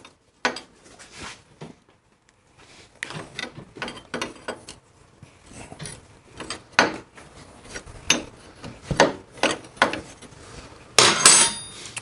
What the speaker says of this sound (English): and take the axle nut off.